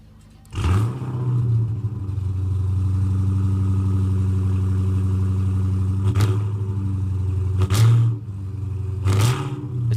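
A Dodge Charger widebody idles loudly nearby at a cold morning truck rodeo meet, its deep exhaust rumble steady for several seconds, with three sharp throttle blips near the end.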